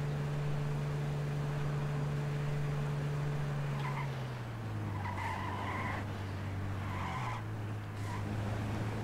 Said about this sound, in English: There's a cop car.